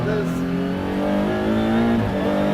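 The McLaren MC Extrema race car's engine drones loud and steady while driving, its pitch rising and dipping slightly, with someone talking over it.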